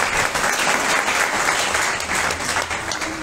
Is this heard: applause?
yes